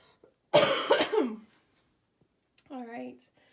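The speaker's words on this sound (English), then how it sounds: "I'm gonna cough" A person in a quiet craft room gives one harsh, close cough, then after a short pause a second, more voiced cough or throat-clearing.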